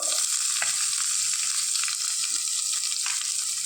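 Onions frying in a pan on a gas stove with asafoetida and curry leaves, giving a steady, close, dense sizzle with a few soft stirring scrapes and no talk.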